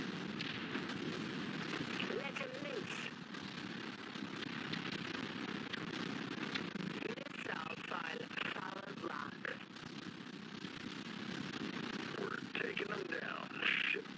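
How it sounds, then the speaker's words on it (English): Dreadnought video game combat: a torpedo launch followed by rumbling explosions and weapon fire, dense and continuous, mixed under radio-style voice chatter. "Torpedo away."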